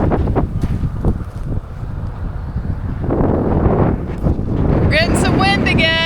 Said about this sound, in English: We're getting some wind again.